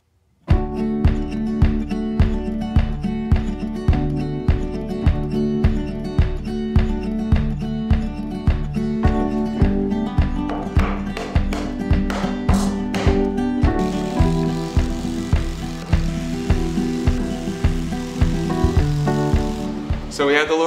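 A power drill drives screws into a wooden firewood rack, pulsing in a steady, repeated rhythm of short whirring bursts, loud and close, with no speech.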